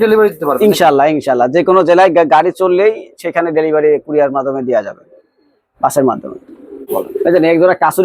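Pigeons of a Pakistani breed coo in long repeated bursts, close and loud, nearly continuous with brief pauses, after their egg was moved away.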